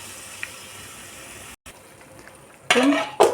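Eggs are dropped into hot oil with fried drumstick leaves in a pan. A faint, steady frying hiss runs along, then two loud, close bursts of sizzling and stirring rise sharply near the end.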